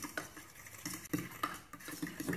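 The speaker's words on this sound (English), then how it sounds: "Stirring all of that up." A spoon stirs milk and egg batter in a bowl, making soft, irregular scraping and tapping clinks at close range with no talk.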